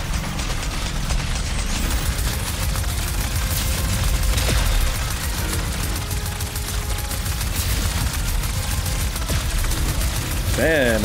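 Rapid, sustained weapon fire from a blaster in the video game Ratchet & Clank: Rift Apart, a dense, loud clatter of shots and mechanical ratcheting running the whole time, with a voice talking over it.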